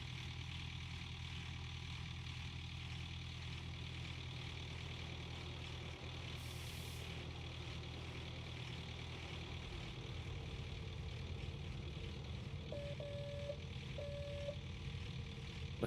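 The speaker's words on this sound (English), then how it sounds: "Let's go into drive mode. Start all the engine up here." Truck engine idling and running in Gold Mining Simulator, a steady low rumble that deepens partway through, with faint mechanical beeps near the end.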